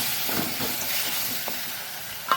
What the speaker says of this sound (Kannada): ಸ್ವಲ್ಪ ಸಾಟೆ ಮಾಡ್ತಾ ಇಟ್ಕೊಳ್ಳೋಣ